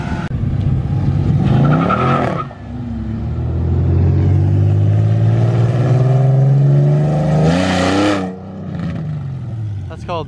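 Corvette Z06 running without an exhaust revs hard and loud, a deep raw roar that climbs and falls through several throttle blips, close by, with excited voices shouting over it.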